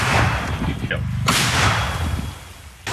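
A heavy artillery gun fires with a loud booming blast that rolls on, set against rumbling outdoor noise and voices.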